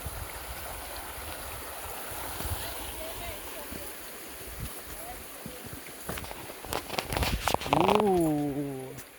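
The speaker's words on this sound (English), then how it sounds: "River again." A forest river in North Georgia flows with a constant rushing wash, heard at moderate distance while a person talks briefly near the end.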